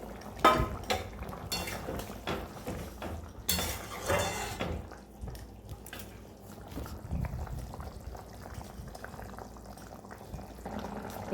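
Jackfruit kofta balls dropped into a simmering Bengali curry gravy: soft splashes and plops over a continuous bubbling boil, with occasional clinks of a spoon against the pot, close and moderately loud.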